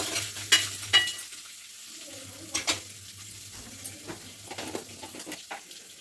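Oil sizzles and crackles steadily as spices with garam masala fry, with a few sharper pops and stirring scrapes near the start; no voices.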